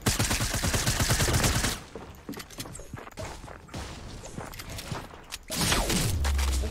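Rapid bursts of video game gunfire ring out in a tight, repeated volley, then give way to scattered impacts and shuffling before another loud, sustained stretch of shooting returns.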